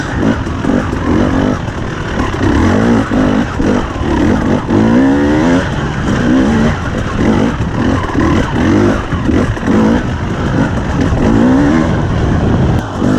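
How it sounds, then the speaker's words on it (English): The engine of a 2021 KTM 300 EXC TPI two-stroke dirt bike fitted with an RK TEK head is ridden on the throttle, making a loud, close, continuous buzzing roar with repeated rising revs and surges for the whole stretch. "the engine is a lot more responsive and much easier to get the front end up just on the throttle with no clutch"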